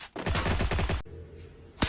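Gunfire in the video game Free Fire, a rapid automatic burst of about a dozen sharp shots followed by a pause and one more loud shot.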